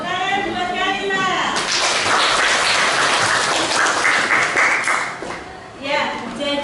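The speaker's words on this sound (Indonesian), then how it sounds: "Ya, tepuk tangan buat Kalila." Classroom of children applauding a classmate, a burst of dense clapping lasting a few seconds, with voices before and after.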